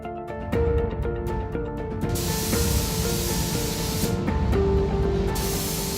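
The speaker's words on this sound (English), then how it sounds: "The vintage forklift is getting a fresh coat of paint." Spray paint hisses steadily onto a vintage Ameise forklift in a workshop, a continuous close spray broken by short pauses and clicks, with faint tonal machinery hum underneath.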